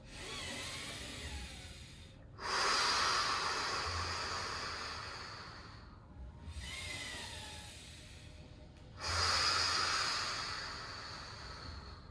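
Deep, slow breathing during a yoga core exercise: four long, airy breath cycles, each swelling into a loud, close rush of air and then fading, with no talk.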